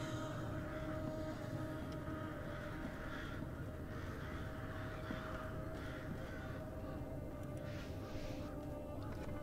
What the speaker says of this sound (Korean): 오, 까마귀 소리.